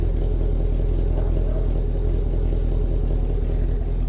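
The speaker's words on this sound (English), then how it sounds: "that's how the exhaust sounds now. A lot more crackling, a lot more popping." A 2019 Camaro SS V8 with its secondary catalytic converters deleted revs steadily, its deep exhaust rumble loud and close with no break through the whole stretch.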